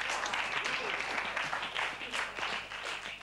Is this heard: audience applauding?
yes